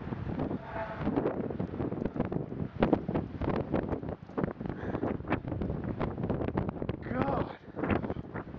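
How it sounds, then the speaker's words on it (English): Strong wind gusting outdoors on a cold day, buffeting the microphone with a loud, continuous roar and rumble throughout, with a person talking over it in places. "It's really, really windy."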